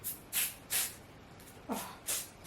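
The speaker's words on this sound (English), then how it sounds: "spray this thing a little bit. I don't like to use this temporary spray like that." Temporary adhesive spray is applied to apparel for embroidery in about five short, close hissing bursts separated by quiet gaps.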